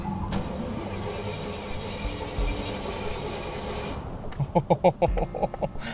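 A blown Jaguar rat rod engine cranks and catches, sputtering through several uneven bursts before idling roughly, following a steady rumble of running engine noise.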